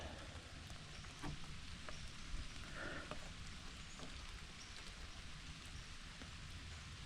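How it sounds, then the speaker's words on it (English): Early-morning rain falls steadily in a remote off-grid setting, a soft even patter with faint drips, quiet and continuous without voices. "It's about quarter to 6, and it's raining."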